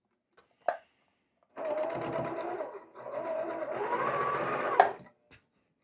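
A sewing machine chain piecing quilt columns runs in two steady bursts of rapid needle stitching, split by a short pause and bracketed by faint clicks and handling noises.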